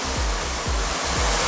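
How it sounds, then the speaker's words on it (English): A filtered shower head with a 20-stage filter sprays a fine mist, giving a loud, steady hiss of water close by with a soft rhythmic pulsing. "That's where that spray is coming from."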